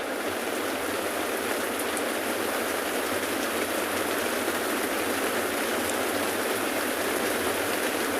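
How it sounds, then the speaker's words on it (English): Steady, dense storm rain pattering on the rain covers of a safari vehicle in Africa, a continuous broadband hiss with no voices, even in level throughout. "I hope you can hear the rains"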